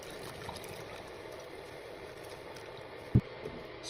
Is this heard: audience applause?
no